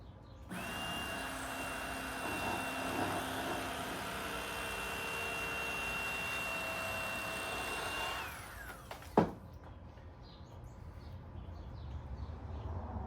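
Bubba electric fillet knife cutting through a fish up to the 15-inch slot size, a steady motor whine running for about eight seconds before cutting off with a sharp knock, quieter handling noise after.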